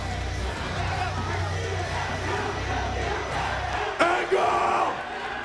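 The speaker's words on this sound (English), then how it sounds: "They're chanting in unison at Samoa Joe" A wrestling arena crowd at TNA Genesis 2006 chants in unison after Samoa Joe's match with Kurt Angle. The sustained, loud mass of voices fills the space and swells near the end with a sharper burst of cheering.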